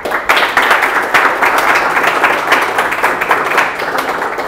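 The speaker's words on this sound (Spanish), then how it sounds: "Vamos a recibir con un fuerte aplauso a Marcela González." Live studio audience gives loud, steady applause welcoming a jury member at a Chilean male pageant show, dense clapping from a crowd throughout.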